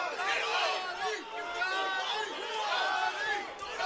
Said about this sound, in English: The pro Gotti crowd has not stopped since that first bell rang.